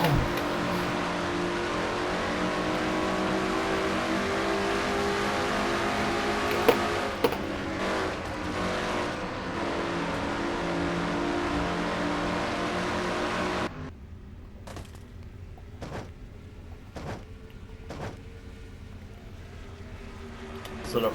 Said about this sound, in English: And now inside Joshua Osborne's car, number 99 XMR's SKF Ford.